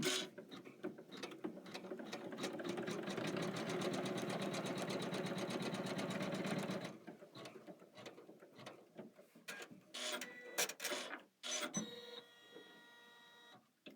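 A Kimberbell embroidery machine stitches a placement line for a Garden Guild embroidery-by-number design, giving a loud, steady rapid mechanical chatter for about seven seconds before stopping into quieter handling clicks and thumps.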